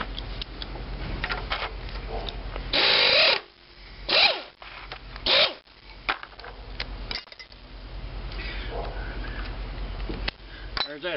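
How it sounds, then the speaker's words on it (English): A power tool removes a nut from an antique IHC engine, giving three loud, short whirring bursts, the first lasting about half a second, between quieter clinks and shop handling noises. "let's get that power tool on that right there."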